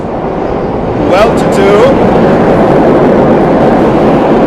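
A train passes nearby, rising after the first second into a loud, steady roar with brief squealing tones, while a voice is briefly audible near the start.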